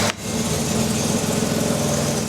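A 4.2-litre Jaguar XJ6 engine fitted with a Volkswagen expansion tank cranks briefly and catches, then settles into a steady, close, rumbling idle with no talk over it.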